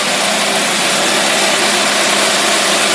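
A car engine fitted with a Rochester two-barrel carburetor runs close by at a steady, loud roar, held high through the full three seconds with no dips or pauses and no talking.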